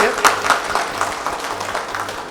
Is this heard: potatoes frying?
no